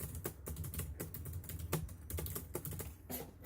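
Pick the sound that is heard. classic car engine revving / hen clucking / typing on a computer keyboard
typing on a computer keyboard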